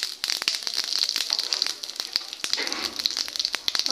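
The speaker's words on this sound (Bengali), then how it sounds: "তো এই যে জিরে ফোড়ন দিয়ে দিচ্ছি" Cumin seeds and bay leaves sizzle in hot oil with dense, continuous crackling and spitting close up. No one speaks.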